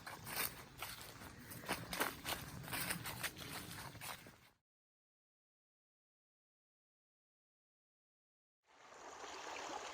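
Salt Fork Creek flows at a rocky crossing on the Ozark Highlands Trail, rushing and trickling nearby for about four seconds, then cutting to silence before the water noise returns faintly at the end.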